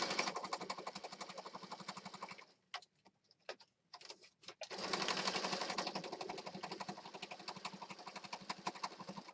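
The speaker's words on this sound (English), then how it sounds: "I'm going to stitch around this inside" A sewing machine runs a continuous rapid stitch around an inside piece of a handmade pocket journal, stopping briefly for a few clicks and repositioning before resuming at a steady, close, busy rattle.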